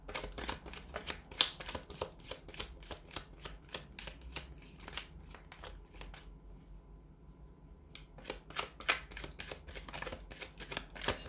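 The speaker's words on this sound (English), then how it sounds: "So we'll go ahead and give the cards a shuffle." Rapid, crisp riffling of tarot cards being shuffled close up, in repeated bursts with a brief quiet pause midway.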